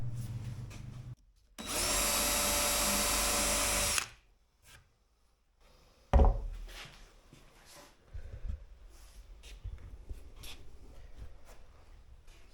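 Pre-drilling holes in a boat skeg: a steady, high-pitched power drill whine runs for a couple of seconds and stops, then comes a sharp knock and quieter scraping and handling sounds nearby.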